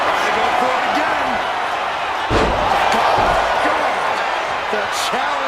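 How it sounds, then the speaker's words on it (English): A large arena crowd in a wrestling video game roars continuously in a broad wash of cheering, with a heavy thud partway through and a commentator talking over it. "Listen to this crowd."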